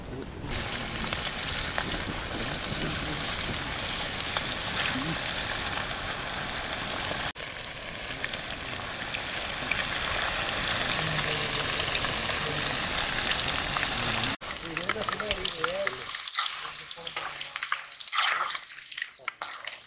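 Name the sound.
battered chicken deep frying in oil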